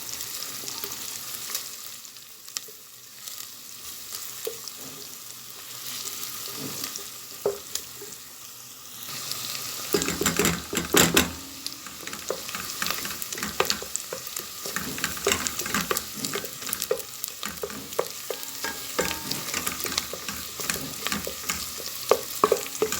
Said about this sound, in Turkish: Çorbamızın lezzetli olması için güzelce salçamızı kavuracağız.